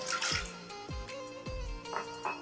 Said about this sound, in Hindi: सबसे पहले सॉस पैन रखें, उसमें हम 2 कप पानी डालेंगे।